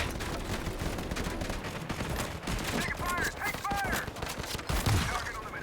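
Shotgun blasts in the video game CROWZ, fired at very close range amid a dense, continuous clatter of other gunfire and game noise, with bursts of bright ringing effects partway through.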